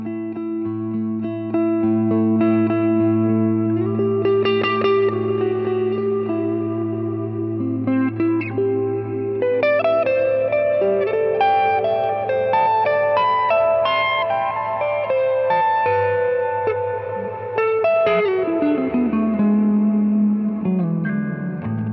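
Electric guitar played through ambient reverb and overdrive pedals, slow sustained notes and chords with long washy tails and gritty edge, played alone and up close.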